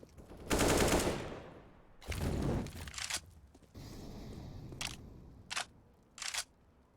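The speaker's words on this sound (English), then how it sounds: "AK-47 headshot." AK-47 fire crackles through a competitive tactical shooter match, arriving as several short bursts and single shots. The first bursts are loud and sustained, followed by sharper isolated cracks over steady low game ambience with no talk.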